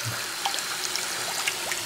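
Very hot tap water runs continuously at close range for a wet shave, a soft steady trickle with faint splashes.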